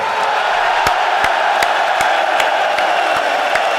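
Arena crowd at the PGL CS2 Major playoffs in Copenhagen, 2024, roars in a steady, dense wash of cheering and whooping, with sharp periodic clicks cutting through the continuous crowd noise.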